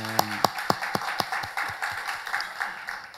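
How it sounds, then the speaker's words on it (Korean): Church congregation claps in praise, beginning with several loud, evenly spaced rhythmic claps up close that then blend into a softer, looser round of applause fading off. "우리 살아계신 하나님께 영광의 박수 올려드리겠습니다"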